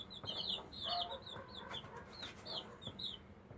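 Quiet farmyard chicken clucks in short, repeated bursts, fairly close, with soft background rustle and no talking.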